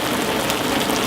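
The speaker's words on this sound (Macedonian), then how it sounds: "Сечи, ајде гаси дождот гаси!" A steady, dense wash of rain patters evenly throughout a short stretch, loud and close with no pauses.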